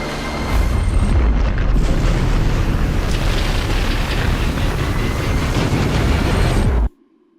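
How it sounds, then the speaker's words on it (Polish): A deep, sustained rumbling boom of an underground nuclear explosion sound effect, loud and continuous for several seconds, then cutting off abruptly into near silence. "Rezultat: potężna podziemna eksplozja jądrowa."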